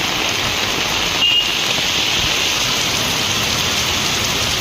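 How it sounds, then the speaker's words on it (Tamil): Heavy rain pours down in the Villupuram area of Tamil Nadu, a steady, loud, unbroken hiss of water close by with no letup and no voices. "விழுப்புரம் மற்றும் சுற்றுவட்டார பகுதிகளில் மழை கொட்டியது."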